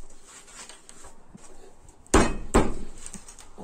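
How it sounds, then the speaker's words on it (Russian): Two sharp, loud hammer strikes hit glued plywood in a workshop, spaced about half a second apart, each ringing briefly after some quieter handling taps. "Давайте молоточком постучим, попробуем."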